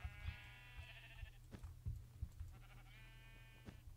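Sheep bleating in a survival video game, two drawn-out wavering bleats separated by a pause, heard faintly over a low ambient hum and soft thumping footsteps.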